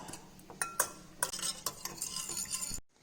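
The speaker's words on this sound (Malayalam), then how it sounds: "ഇനി നമുക്കിത് വിസ്ക് ചെയ്തെടുക്കാം" Milk and salt being whisked into a mixture in a bowl, with quick close clinking and tapping of a metal whisk against the sides in an uneven rhythm, ending abruptly.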